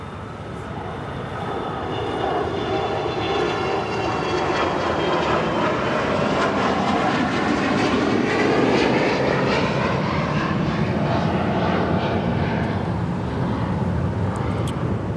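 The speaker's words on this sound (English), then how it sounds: "This Gulfstream 4 is departing to Cartagena." Gulfstream 4 business jet departing LAX, a loud, sustained jet roar that builds and holds with shifting whine, heard alone without talk.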